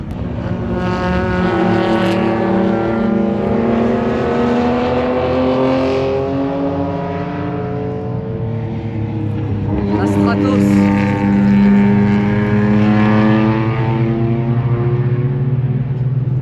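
A Matra MS650 race car at the Tour Auto 2025 in the Côte-d'Or revs hard and accelerates again, its loud, harmonic engine note climbing and falling for over fifteen seconds, close by and sustained.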